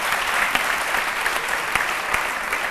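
Audience applause in a television studio, a dense, continuous wash of clapping at steady volume with a few sharper individual claps standing out, no talking over it.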